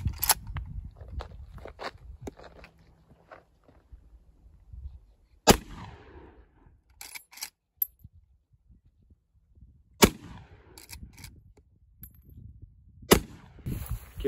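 Rifle rounds, including 160 grain hollow-point bullets, are fired at a ballistic fiberglass plate in destructive testing. Three sharp, loud gunshots are spaced several seconds apart, each trailing a short crackle, with light shuffling and handling noises in between.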